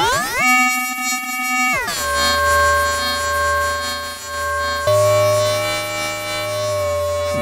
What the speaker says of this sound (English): Some great metallic sounds.